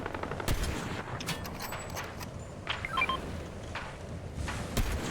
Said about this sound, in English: why not dual wield sniper rifles, right? Because then I can fire 6 shots.